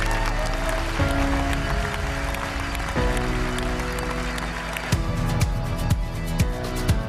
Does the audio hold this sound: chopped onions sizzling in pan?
no